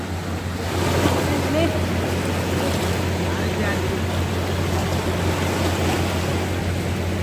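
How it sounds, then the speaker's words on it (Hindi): Ocean waves roll onto a rocky, moss-covered shore, producing a continuous loud wash of surf with wind buffeting the microphone and a low steady rumble underneath. "और मैं थोड़ा लहरों का मजा लेता हूँ।"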